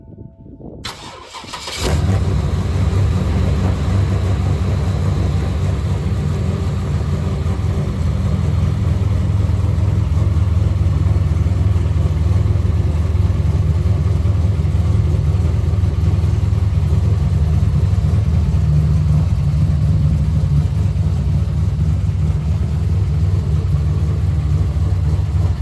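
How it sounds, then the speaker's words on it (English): A 1978 C3 Corvette coming out of winter storage cranks briefly and catches, then settles into a loud, steady, rumbling idle close to the microphone. "show you us starting and revving the C3 Corvette for the first couple times this year."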